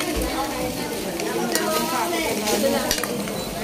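Vegetables for bulanglang and ginataang gulay being stirred in a cooking pot, a steady scraping stir over continuous sizzling and frying, close and fairly loud throughout.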